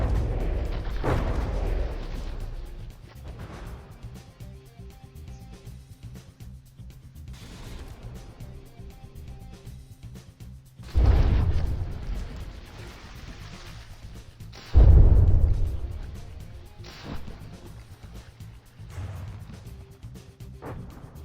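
Warship guns firing in the From the Depths naval combat game, sounding as a few heavy booms spaced seconds apart, with deep low rumbles and decaying tails over a quieter background.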